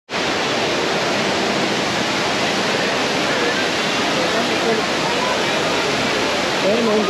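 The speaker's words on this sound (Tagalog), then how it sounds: "Umaanggi yung tubig." Large indoor waterfall at Changi Airport in Singapore, its spraying water making a loud, constant rushing roar that fills the space without a break.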